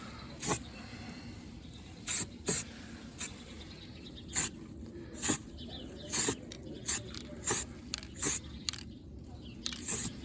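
Short hissing bursts of aerosol primer sprayed lightly onto an MG ZR car, about ten brief puffs at irregular intervals, each sharp and close, with a faint background hum between them.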